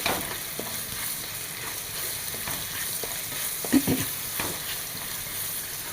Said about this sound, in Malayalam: ഇതാ ഒരു രണ്ട് സവാള കട്ട് ചെയ്തതാണ് ഇട്ട് കൊടുക്കാം സവാള ഒന്ന് വഴണ്ടി വരട്ടെ